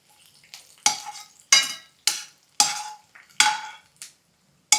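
Onions deep fry until crisp for a crunchy onion chutney, heard as bursts of loud crackling sizzle when they are stirred and lifted in the hot oil, with short pauses between, close by and without talk.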